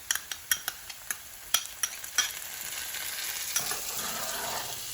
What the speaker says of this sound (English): So let's add it all into the pan. First one we have is our minced garlic.